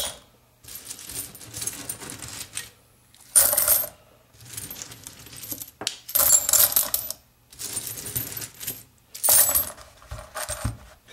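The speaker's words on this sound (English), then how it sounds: "you take your tumbler, you want to fill it probably about halfway with your coins" Coins poured into a rock tumbler barrel make repeated bursts of bright metallic clattering and jingling, each pour a few seconds long with short quiet gaps between, close and fairly loud, with no talking.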